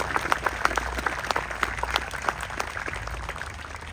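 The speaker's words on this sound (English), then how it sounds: "Round of applause for them," Outdoor applause from a crowd at a Memorial Day ceremony in Morris Plains, New Jersey, honoring the parade marshals: a steady patter of many hands clapping that thins out and fades over a few seconds, fairly faint and without speech.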